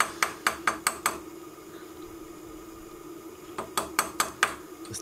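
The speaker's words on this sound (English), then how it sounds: "Just tappy tap tap to get everything nicely in place." Sharp metallic taps as a CNC machine's Z-axis part is knocked into place, a quick burst of about five close, evenly spaced strikes, a quiet pause, then another run of five or six taps.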